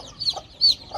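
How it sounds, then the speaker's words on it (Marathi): A country hen clucks softly near her four-day-old chicks, two short close clucks with faint high chick peeps. "हिच्या खाली जवळजवळ 13-14 पिल्ले आहेत आणि इकडं बाकीची पिल्ले आहेत"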